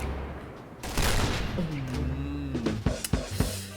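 Video game gunfire: a burst of shots rises after a quieter start, followed by a few sharp, separate cracks near the end, mixed with other game sounds and a voice.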